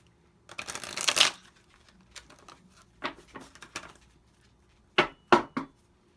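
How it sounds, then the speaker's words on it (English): A deck of tarot cards is shuffled by hand close up, a burst of riffling at the start followed by scattered soft card taps and a few sharper slaps near the end, with no talking. "Let's give this deck a shuffle too."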